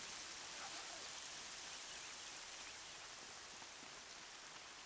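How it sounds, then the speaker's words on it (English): Steady rain falling across an open landscape in the video game Horizon Zero Dawn, a dense, even hiss of drops that holds constant and fairly quiet throughout, with no voices. "Ooh, it's raining."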